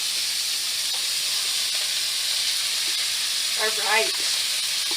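Celery hitting a hot pan for French dip sandwiches sets off a steady, close, broadband sizzle and hiss, with a short spoken phrase near the end.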